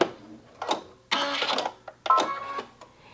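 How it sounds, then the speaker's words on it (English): A domestic sewing machine stitching a small zigzag stitch across stretchy fabric with dark thread, running in short, uneven bursts with brief stops between them. "So Jen, just select a small zigzag stitch and stitch across."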